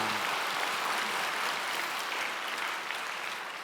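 A Korean church congregation at Sunday worship claps in encouragement for the unseen broadcast and booth staff, a steady, even wash of applause that fills the room and fades only slightly toward the end.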